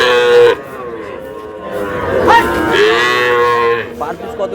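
Sahiwal cross cattle give several loud, drawn-out moos close by, one after another, with a short pause between calls and a low murmur of people in the background.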